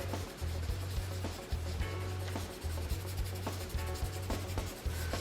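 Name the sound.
blending charcoal on paper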